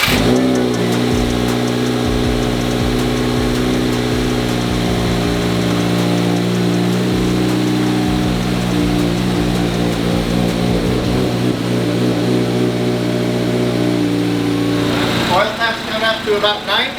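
A 2022+ Subaru WRX engine idles steadily with a low, even hum and a harmonic drone, close and loud, shifting slightly in tone near the end.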